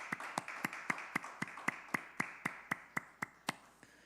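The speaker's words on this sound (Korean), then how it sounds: "오늘 이 밤에 우리 하나님 앞에 감사와 영광의 박수 올려드립시다." A church congregation at a New Year's Eve worship service claps in rhythm, about fifteen sharp, evenly spaced claps at a steady beat, fairly faint and with no voices.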